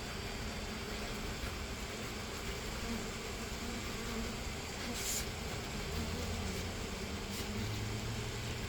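Forager honeybees buzz in a faint, steady, continuous hum during a hive removal, with no voices.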